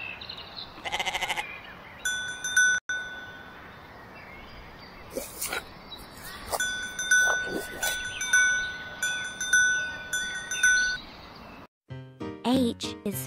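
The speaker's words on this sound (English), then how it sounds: "G is for goat." Cartoon-style goat bleating in a children's alphabet flash-card sequence, several short bleats over chiming electronic tones and a light backing tune, fairly close and moderately loud, with a brief gap before a closing jingle.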